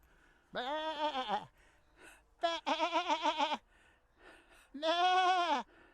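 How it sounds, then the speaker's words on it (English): Sheep bleat in a field near Stonehenge in England, three long, wavering calls with short pauses between them, moderately close and fairly quiet against a still background. "They can't be Welsh sheep, that's all I can say."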